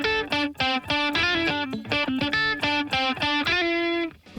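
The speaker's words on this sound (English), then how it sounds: "And what I'm going to do with this compressor is I am going to squish this guitar." Heavily squished, compressed distorted electric guitar in a rock style, a rapid run of dense chords with an even, flattened loudness, alone.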